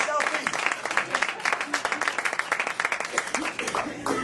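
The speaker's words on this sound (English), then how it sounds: "give my mother a round of applause" A crowd at a lecture on Black manhood and international power gives a round of applause, steady close clapping from many hands with someone talking over it.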